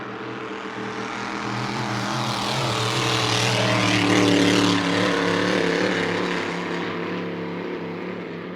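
A GP-class hydroplane race boat at E C Griffith Cup practice cruises past at about half throttle, its big engine howling as it swells louder toward the middle of the pass and then fades away, with no talk over it.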